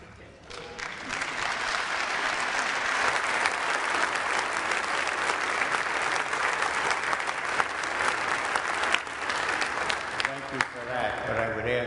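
Sustained applause from an audience at a church assembly introducing ordained pastors and candidates, dense and steady clapping throughout, fairly loud and continuous for the whole stretch.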